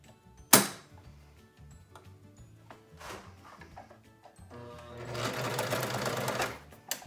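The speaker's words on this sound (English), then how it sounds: "I'm going to start by sewing one of my ends down." Sewing machine stitching down one end of a surgical cap, heard as quiet scattered clicks and handling noises before a steady, close mechanical whir of stitching runs for about a second and a half.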